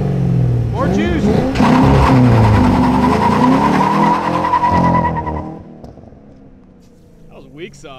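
A Cadillac CTS-V with a tube front end and roll cage revs hard through a burnout, the engine note climbing and wavering with tire squeal, then fading. Voices are heard over the car.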